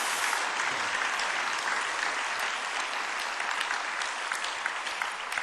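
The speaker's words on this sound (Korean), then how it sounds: "우리 박수 한번 해주시겠습니다" A church congregation applauds at a discipleship-class graduation ceremony, steady continuous clapping from many hands filling the room at an even, moderate level with no voices over it.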